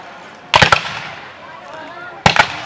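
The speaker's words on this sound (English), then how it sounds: "There's a squad that's firing away." Musket volleys from a squad at a Civil War reenactment, two sharp clusters of quick rapid shots cracking out with a pause between them, loud against an outdoor background.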